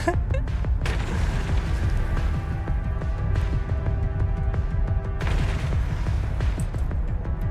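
Missile fire and explosions in the space game EVE Online form a dense, loud barrage of booms and crackling blasts, continuous throughout with bursts of sharper impacts.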